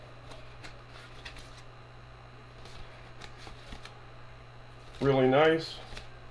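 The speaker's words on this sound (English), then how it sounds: "They're playing cards, they're perfect for crafting" A pack of greeting cards is shuffled close up in a short, dense riffle near the end, with quiet handling before it and a brief spoken remark.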